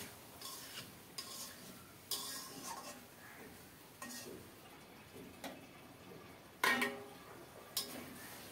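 Dried loitta fish curry with potatoes and bean seeds being stirred in a pot, giving several irregular clinks and scrapes of a spoon against the metal, then a louder clatter as a lid is set down, all fairly close.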